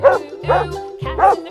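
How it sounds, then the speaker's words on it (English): A dog barks three or four times in a quick, loud series, the sharp barks clear and close. "Dog."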